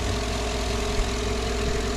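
A warm car engine idles steadily through the whole stretch, a low, even rumble with faint vibration while transmission fluid is being checked, and no one speaks.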